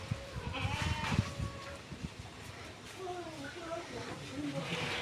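Javanese goats bleat repeatedly in a crowded livestock pen, several animals calling in overlapping, wavering cries at moderate distance, with ongoing rustling and background noise and a person speaking.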